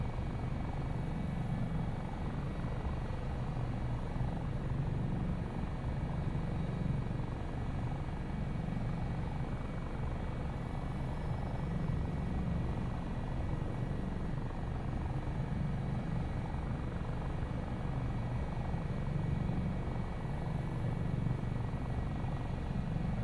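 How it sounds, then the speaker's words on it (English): An AS365 N2 Dauphin helicopter of 658 Squadron AAC in flight, heard as a steady, dense rotor and turbine roar that holds at an even level throughout, with no talk over it. "It is a lovely helicopter, isn't it?"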